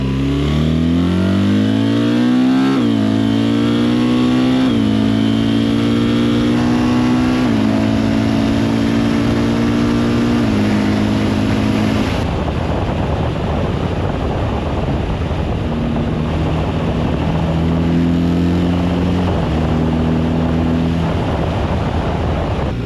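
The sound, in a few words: motorcycle engine accelerating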